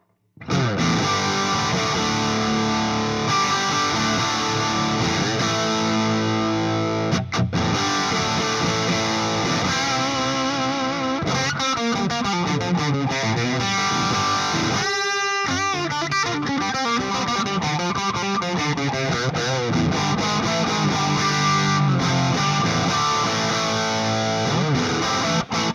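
A mildly overdriven electric guitar through a Marshall DSL 100H tube amp on its classic gain channel plays chords and riffs steadily for the whole stretch, warm and full with light crunch, briefly cutting out midway.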